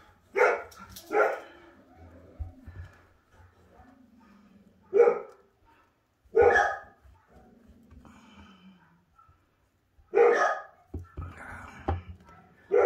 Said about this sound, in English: All the neighborhood dogs are barking now.